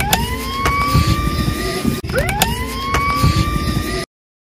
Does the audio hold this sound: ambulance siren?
yes